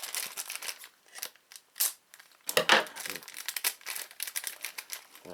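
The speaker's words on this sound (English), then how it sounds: "I tried to open the packet." Crinkly foil rustling and crunching in bursts, with a sharper tearing crackle in the middle, close to the microphone.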